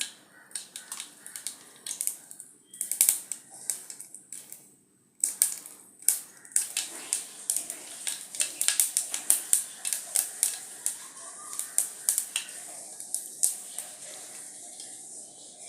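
Rapid, irregular crackling and popping, sharp bursts clustering densely for several seconds, close and fairly loud, of mustard seeds spluttering in hot oil.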